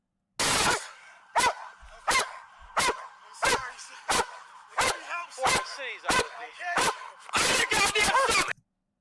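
A police K9 dog barks loudly and close in about a dozen sharp, spaced barks, then a faster burst of barking near the end.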